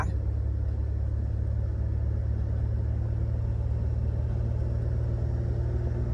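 A 39,000-baht Thai van with a rocket-style nose drives steadily along a road, its engine a constant low rumble with road noise that never lets up, close and loud without any voices.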